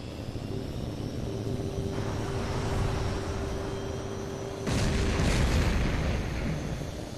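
Heat-seeking missile striking an enemy jet in the HAWX 2 aerial combat game, heard as a sudden loud explosive boom about two-thirds of the way through, rising over a continuous roar of jet engines and a steady high tone.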